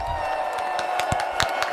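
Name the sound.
hand clapping for guests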